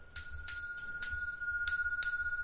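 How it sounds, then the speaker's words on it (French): A bell is struck five times at fairly even intervals. Each strike gives a bright, clear ring with a sustained tone that carries between strikes, and no voices are heard. "la cloche sert à éloigner le mal et à signifier la présence divine."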